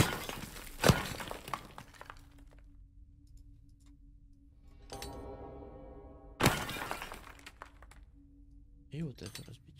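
Objects smashed with a hammer in the video game Boxes: two loud, sharp crashes with glassy shattering, separated by quieter ticking and rattling, and then a fainter knock at the end.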